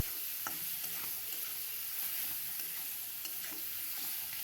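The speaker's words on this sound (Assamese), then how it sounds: "এতিয়া ভালদৰে লৰাই দিম আৰু ধুনীয়াকৈ এইখিনি মিক্স কৰি ল'ম।" Liver frying in a pan with turmeric, ginger and garlic being stirred, a soft steady sizzle with scraping stir strokes and light clicks, fairly quiet and close, no talk.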